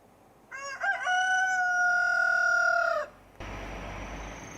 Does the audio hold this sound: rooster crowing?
yes